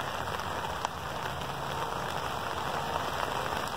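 Summer rain falling harder outdoors: dense, continuous hissing patter of drops on surfaces and an umbrella, steady and fairly loud throughout with no talk.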